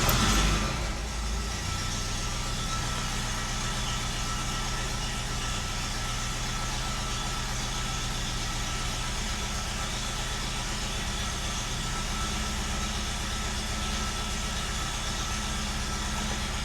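A car engine idles just after starting, a steady low rumble with a constant hum that follows a brief louder burst at the start, with no talking.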